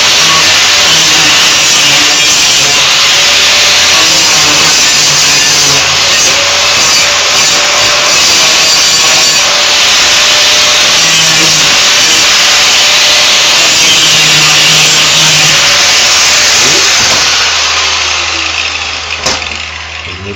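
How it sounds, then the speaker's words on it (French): An angle grinder's cutting disc slices steel sheet metal in a metalworking shop, a loud, continuous high-pitched grinding whine holding steady for about seventeen seconds before easing off near the end. "pour découper une tôle, ça sert à rien d'appuyer trop sur la meule"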